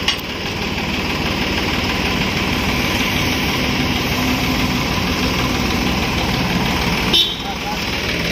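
Massey Ferguson 9500 Smart tractor engine running at a steady idle, a loud continuous drone with vibration and one brief bump near the end, while someone talks over it.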